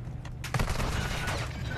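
Fast bursts of loud video game gunfire fill a short stretch, sharp repeated shots packed close together with no talking over them.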